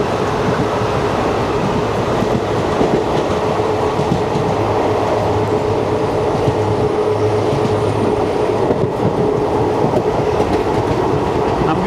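The 16127 Chennai Egmore–Guruvayur Express running through Korattiyangadi station, heard from on board as a loud, steady roar of wheels and rails with a continuous rumble and faint clatter.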